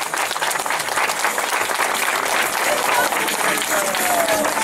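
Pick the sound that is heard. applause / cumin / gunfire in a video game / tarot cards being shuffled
applause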